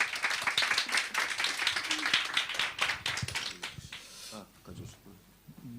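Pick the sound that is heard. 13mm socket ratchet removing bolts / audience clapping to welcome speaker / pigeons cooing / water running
audience clapping to welcome speaker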